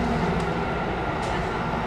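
A Copenhagen metro train runs along the track, a continuous loud rumbling drone heard from on board with a faint whine and no pauses.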